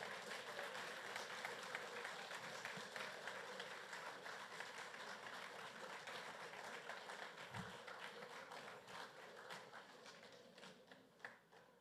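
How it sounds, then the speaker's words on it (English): Quiet, distant applause for graduates at a graduation ceremony, a continuous patter of many hands that slowly tapers off. "Another round of applause for all our graduates, please."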